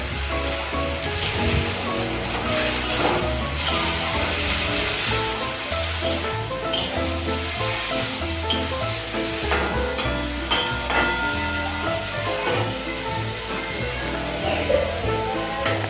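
Bottle gourd stalks fry in a pan with salt and turmeric, a steady close sizzle broken by repeated scraping stirs of a spoon, continuous and fairly loud with no talking.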